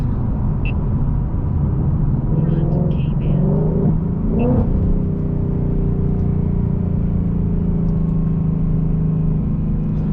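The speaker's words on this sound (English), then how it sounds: "See if we can get a couple downshifts with the 10-speed automatic." A modified 2018 Ford Mustang GT engine hums steadily, with a couple of brief pitch shifts as the 10-speed automatic downshifts, a smooth whirring drone under faint road noise.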